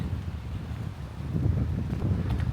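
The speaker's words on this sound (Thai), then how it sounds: "อากาศก็เย็นและหนาวมาก ปากสั่นเหมือนเดิม เพราะลมแรงมากครับ" Strong, cold wind near Mount Fuji and Lake Yamanaka buffets the microphone with a steady low rumble that grows louder and heavier in the second half, with no voices.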